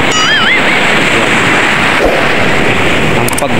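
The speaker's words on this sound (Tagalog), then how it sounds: "Ang pagbula ng bagsak ng alon." Ocean waves crashing and foaming, a loud continuous broadband wash of surf with wind noise on the microphone, no talking.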